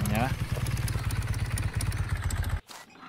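A motorcycle engine in the farming game Farmer's Life chugs with a steady, fast low putter, close and loud, then cuts off abruptly near the end.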